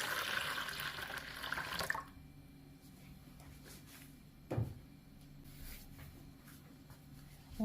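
Warm water pours and splashes from a tap for baursak dough, a brief running gush in the opening seconds, then quiet drips and a single soft knock.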